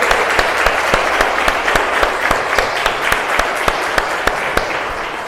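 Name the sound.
church congregation applauding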